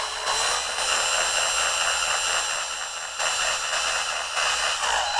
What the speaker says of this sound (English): Make sure your drill is perpendicular to the cartridge and begin to drill very